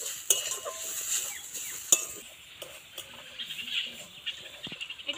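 Ground coconut stirred in a pan over low heat, giving soft scraping and a few light clinks of a utensil against metal, with a faint sizzle underneath, fairly quiet and without talk.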